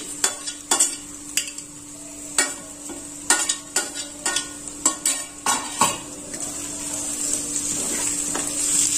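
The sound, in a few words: onion, grated ginger and green chilli being sautéed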